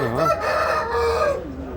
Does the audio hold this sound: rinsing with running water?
no